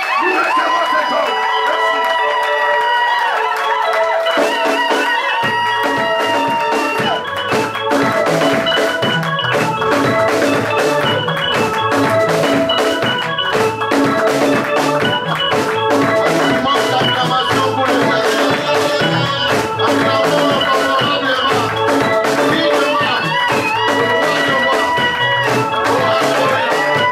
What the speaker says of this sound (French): Sous nos acclamations, avec un cri de joie, nous recevons cet homme.